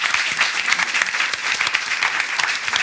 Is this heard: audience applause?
yes